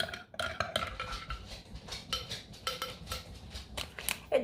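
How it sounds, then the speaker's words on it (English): A spoon clinks and scrapes against the sides of a cup while stirring raspberry drink powder into heated milk, with quick, irregular taps close by and a few louder knocks at the end. "It does take a fair bit of stirring"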